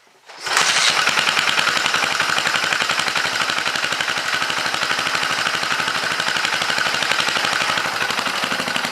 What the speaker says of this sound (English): The engine's way quieter than it was before